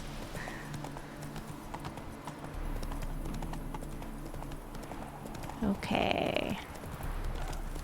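Horse hooves clip-clopping at a steady pace in the video game The Witcher 3, heard under a person speaking, with game background sound throughout.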